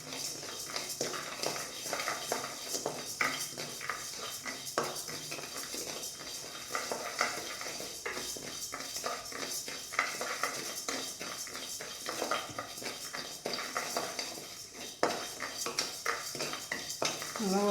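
Toor dal being dry-roasted in a pan, a utensil scraping and clinking steadily against the metal in quick repeated strokes, close and moderately quiet, with light sizzling beneath.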